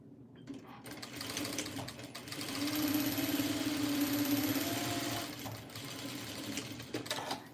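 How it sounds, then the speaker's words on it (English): A straight stitch sewing machine topstitches a quilt piece, a close, steady mechanical whirr and rattle that speeds up, runs for a few seconds and then slows to a stop, with light handling noises around it. "now I'm going to fit this underneath, and we're going to top stitch this one"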